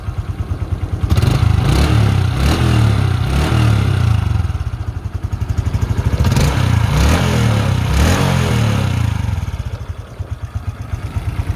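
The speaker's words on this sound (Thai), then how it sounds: "เดี๋ยวผมลองเร่งเครื่องให้ดูนะครับ" A Honda Wave 125i motorcycle engine idles with a loud, throbbing putter, then revs up several times in bursts before settling back to idle.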